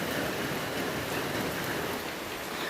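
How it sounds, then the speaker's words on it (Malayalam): Steady rain falls on a home's surfaces, a dense even hiss with no gaps and no voices, moderately loud throughout. "ഇന്ന് രാവിലെ തുടങ്ങിയ മഴയാണ്."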